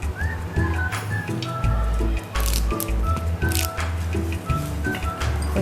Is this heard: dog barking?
no